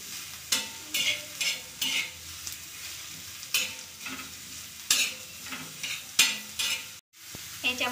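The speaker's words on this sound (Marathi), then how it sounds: "लाल रंग येईपर्यंत त्याला भाजून घेऊया आपण कांद्याला" Onions frying in oil in a pan for an aubergine and potato curry, giving off a steady hiss broken by repeated bursts of stirring and scraping, close and fairly quiet, with a brief dropout near the end.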